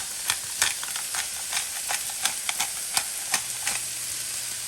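Chicken browning in a pan for Cajun chicken alfredo sizzles steadily up close, with a string of sharp scraping and stirring clicks over the frying hiss.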